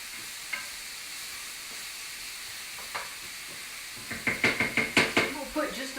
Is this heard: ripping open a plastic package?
no